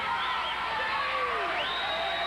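A wrestling crowd roars steadily for Terry Garvin at a 1991 Texas Championship Wrestling show, a dense, continuous arena cheer with a few whoops rising out of it, heard at a distance.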